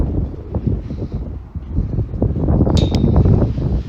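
Strong wind roars and buffets continuously around a DJI Mini 3 drone flying long range against the wind over Poço Escuro, a dense, rumbling, gusting noise with a brief high metallic whine partway through.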